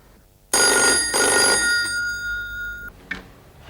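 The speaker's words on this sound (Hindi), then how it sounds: "मैं इंस्पेक्टर विक्रम को फोन करता हूँ।" A telephone rings loudly in a Hindi TV serial scene, one sustained bell burst of about two and a half seconds with a bright, tonal ring, followed by a short click as the handset is picked up.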